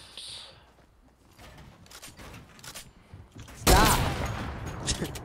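Gunfire in Fortnite Zone Wars, a sudden loud burst of shots near the end that rings on, following quieter in-game movement noise and talk early on.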